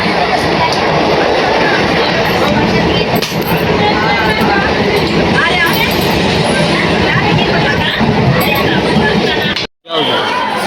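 Interior of an air-conditioned local commuter train bound for Krishnanagar, a steady loud rumble of wheels and carriage with passenger chatter and occasional clinks throughout, briefly dropping out near the end.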